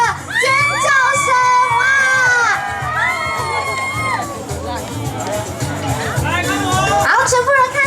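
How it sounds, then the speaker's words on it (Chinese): Fans at an outdoor stage event in Beitou, Taipei, scream and cheer loudly and continuously, with shrill high-pitched shouts rising over crowd babble. "各位粉丝朋友们，热情的尖叫声！"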